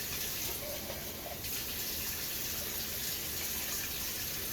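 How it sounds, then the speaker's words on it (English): Water running from a tap to rinse the bottom of an emptied red bean can while cooking sausage and chicken gumbo, a continuous close splashing rush with no break. "I always like to rinse out the bottom of the can because that's where all the sediment gets down there"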